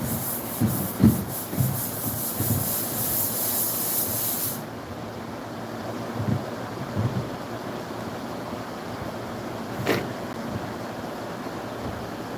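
Fine-grit sandpaper rubbing over the parts of a Lasko Ultra Force box fan, a soft, close, steady scratchy hiss in short back-and-forth strokes that stops partway through and leaves quieter background noise.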